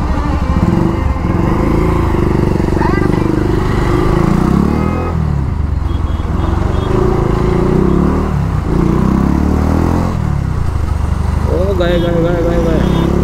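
A motorcycle engine runs steadily and close up while riding through packed morning city traffic near barricades, with a rider talking over the continuous engine drone throughout.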